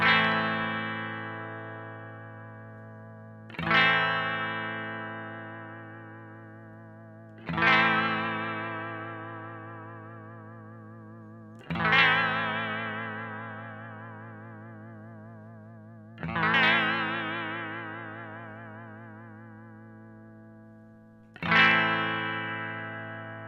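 Sustained electric guitar chords through a Boss VB-2W vibrato pedal, with a deep, warbling pitch wobble, struck about every four seconds and left ringing and fading, with no talking.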